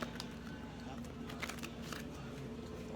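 Quick riffling card shuffles, close and fairly quiet, with crisp fluttering bursts over a steady low hum.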